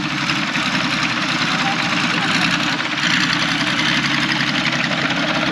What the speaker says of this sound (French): Ça doit être un Iveco, on l'entend claquer.